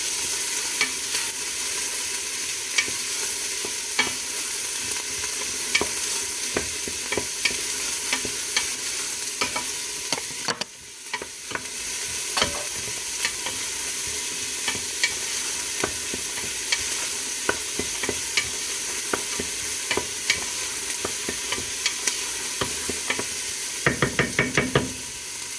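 Red peppers and onions sizzle loudly in a hot pan while a wooden spoon stirs them, giving a steady hiss broken by frequent close knocks and scrapes, with a short pause partway through.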